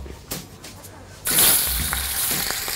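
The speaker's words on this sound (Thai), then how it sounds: "เดี๋ยวเราเอาแซลมอนลงกระทะเลยครับ" Salmon, skin side down, drops into hot olive oil in a pan and a loud, bright sizzle erupts midway, continuing steadily with faint clinks and stirring.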